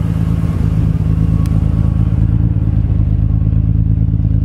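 A Nissan Skyline R34 GTR with an HKS cam cover idles steadily close by, a constant low engine drone with a faint clatter, no talk.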